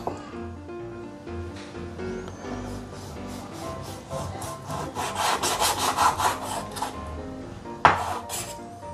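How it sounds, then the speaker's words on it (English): Knife slicing softened pork belly into thin slices on a board, a steady run of soft rhythmic cutting strokes with one sharper knock near the end. "It is always not easy to cut softened pork."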